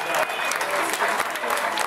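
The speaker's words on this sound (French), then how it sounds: "Allez, battez les mains, battez les pieds" Dinner-show audience at the Camp du Drap d'Or spectacle, Puy du Fou, clapping in a dense continuous wash throughout, with voices and some faint tonal sounds mixed in.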